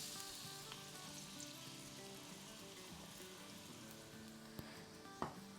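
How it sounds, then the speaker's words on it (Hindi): One cup of chopped medium-sized onion sizzles in hot oil for green keema, a steady hissing fry with a few sharp spatter pops near the end. "तो अब इसमें हम डाल देंगे 1 कप हमारी चॉप की हुई प्याज"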